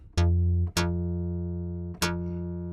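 A SubBoomBass-2 software synth plays three sustained bass notes with constant oscillator volume modulation. Each has a sharp attack and a steady, buzzing harmonic tone that rings on until the next one starts.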